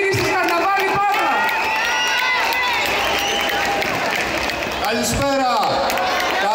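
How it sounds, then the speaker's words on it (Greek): At the opening of the Patras Carnival, a crowd keeps up continuous applause and cheering throughout, dense and steady, with a voice speaking over a loudspeaker on top. "Χειροκρότημα"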